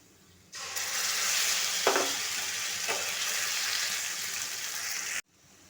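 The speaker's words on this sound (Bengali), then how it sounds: "পেঁয়াজটা ভাজা হয়ে গেলে পেঁয়াজের ভেতরে দিতে হবে আদা রসুন বাটা।" Ginger garlic paste and onion start frying with a sudden loud sizzle, two scraping stirs partway through, then the sound cuts off abruptly.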